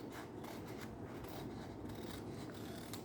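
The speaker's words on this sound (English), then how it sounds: "So to do that, just cut it off. Pair of scissors." Scissors cut through a sheet of origami-type craft paper, a continuous soft rasping snip that stays low in level with no talking.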